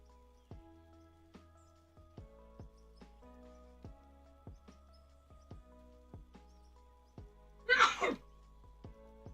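One abrupt, fairly loud sneeze breaks through a quiet room where faint, evenly spaced clicks and soft tones tick along in the background.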